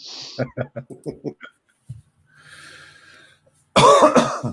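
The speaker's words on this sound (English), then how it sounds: "I've had this tickly cough for ages." A person talks in short bursts, falls quiet, then lets out a loud, close, tickly cough near the end.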